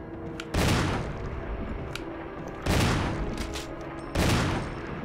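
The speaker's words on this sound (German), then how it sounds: "der Schuss ging" Gunshots in the Resident Evil HD Remaster video game, three loud booming blasts about two seconds apart, each fading into a rumbling tail, with no voices.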